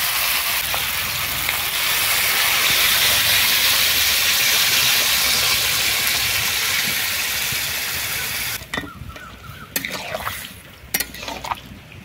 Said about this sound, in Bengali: মশলার সঙ্গে ভাজা সবজিগুলো ভালোভাবে কষিয়ে নিয়ে এবারে জল দিয়ে দেব।